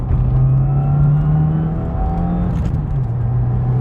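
A 2017 Subaru WRX with an Invidia R400 exhaust and 2.25-inch downpipe pulls hard at full throttle on a highway, with a steady, loud engine drone and a rising exhaust note heard from inside the car.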